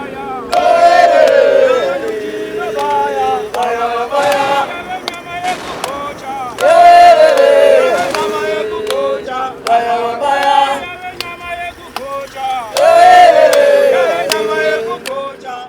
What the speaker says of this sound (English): there's a big crowd busy building